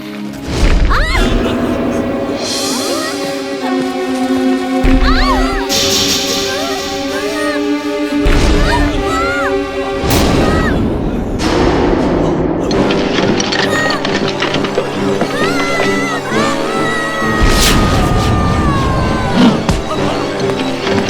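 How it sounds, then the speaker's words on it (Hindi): Cartoon meteors crash down near a new car in a Hindi children's cartoon, producing repeated booming smashes and thuds under a continuous music score, with loud hits recurring through the scene. "लगता है कोई मीटियोर टूट के गिर रहे हैं।"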